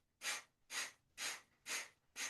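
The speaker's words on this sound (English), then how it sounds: "begin to breathe in and out through the right nostrils" Rhythmic breathing in and out through the right nostril during a yoga breathing practice: five even, airy nasal breaths about half a second apart, close and soft.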